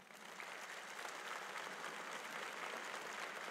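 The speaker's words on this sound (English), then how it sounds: "how about a big round of applause for all the people here who love you?" Applause at a 2021 high school graduation ceremony, a dense, even wash of clapping from a large crowd that holds steady for several seconds.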